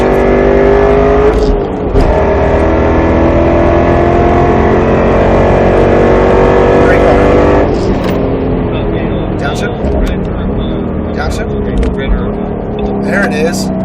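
A Roush Mustang RS3 on a track drives hard with its engine roaring steadily, pitch climbing through gears with brief shift dips, while an instructor talks over the car.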